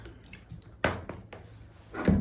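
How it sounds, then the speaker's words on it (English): Soy sauce poured generously into a bowl for spicy konjac liangpi noodles, giving a few brief splashy drips and liquid hits, close and fairly quiet. "So I'm just going to go for a generous pour of soy sauce"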